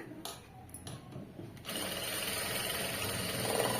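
A sewing machine stitches fabric in short stop-start bursts at first, then settles into a continuous fast, even whirring run of stitches, close and steady.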